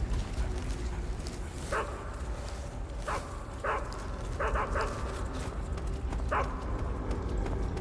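A dog barks several times in the video game Metal Gear Solid 3, short sharp barks spaced irregularly over a steady background hum.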